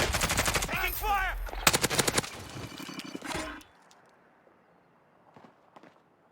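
Rapid automatic gunfire bursts crackle loudly in the Call of Duty Warzone video game, dense repeated shots for a few seconds, then cutting out to quiet background with faint distant sounds.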